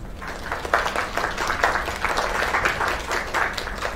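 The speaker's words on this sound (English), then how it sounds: "Another round of applause." Steady applause from a crowd in the video game Lake, many hands clapping at once for a few seconds, fairly loud and unbroken.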